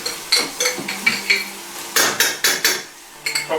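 Metal spoon scraping and tapping against a pan while tomato paste goes in for spaghetti bolognese, a series of sharp clinks and knocks repeating unevenly, close and clear with no talk.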